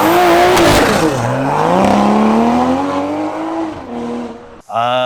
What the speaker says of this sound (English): Right now I'm driving this Mark V Supra.